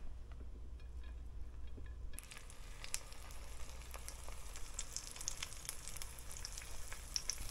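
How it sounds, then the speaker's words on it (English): A panfish sandwich with cheese and tartar sauce frying in pork fat after a caught sunfish, a quiet hum giving way to a steady sizzle with scattered pops and crackles, near but soft, with no talking. "we're going to get a little more pork fat, and that's what we're going to fry the sandwich in too"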